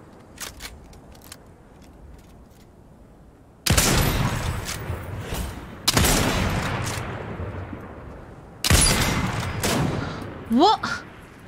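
Bursts of gunfire from the video game Fortnite come in three loud volleys of rapid shots separated by pauses, with a player talking briefly and faint game effects in between.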